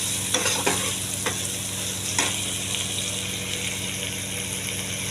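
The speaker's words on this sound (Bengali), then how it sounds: "পেঁয়াজটা ভাজা হয়ে গেলে, প্রায় ভাজা হয়ে এসছে" Onions nearly done frying in a pan give a steady, close sizzle that runs the whole time, with a few soft stirring clicks and scrapes near the start.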